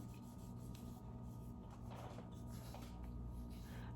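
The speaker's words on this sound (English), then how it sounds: "it's time to scrub my face with step one" Steady close rubbing of a facial scrub on skin, a continuous soft scratchy friction lasting the whole stretch with no talking.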